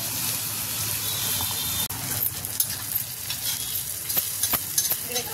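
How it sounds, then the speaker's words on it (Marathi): Onion and tomato frying in a pan for a Bombay duck and potato curry, a loud steady sizzle with a sudden jolt and then scattered clicks of a spoon stirring against the pan. "इकडे कांदा टमाटर छान भाजलेला आहे"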